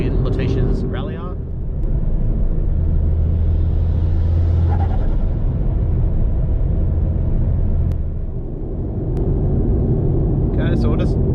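Mitsubishi Lancer Evo X engine and exhaust, a steady loud low rumble that swells and eases as the car drives, with a voice talking over it.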